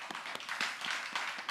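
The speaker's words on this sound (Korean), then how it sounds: "우리 중등부 렘넌트 우리 격려의 박수 합니다" A church congregation at a youth worship service applauds the middle-school group in encouragement, with dense, lively clapping from many hands and a few distinct claps popping out over the wash.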